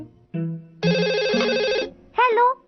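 A cartoonish electronic phone ring sounds in short bursts, a steady tonal trill with a rising chirp at the end, under a brief voice.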